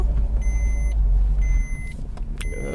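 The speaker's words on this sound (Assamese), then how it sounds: "এতিয়া সময় হ'ল গাড়ী ছেকেণ্ড গিয়াৰত শ্বিফ্ট কৰাৰ।" A car engine rumbling low and steady while a learner driver shifts into second gear, the revs dropping partway through, with faint electronic beeps repeating in the cabin.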